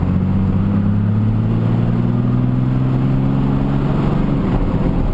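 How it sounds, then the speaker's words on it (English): A 6.2L Cummins diesel truck pulling hard in third gear, a loud steady engine drone whose pitch climbs gradually as it accelerates, heard from inside the cab. "I'll see if I can get third gear pull here on my boost gauge."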